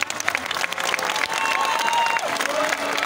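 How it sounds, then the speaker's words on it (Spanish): Applause from an audience at a national school contest, a steady dense clatter of many hands clapping for about three seconds, with crowd murmur mixed in. "Los aplausos, por favor."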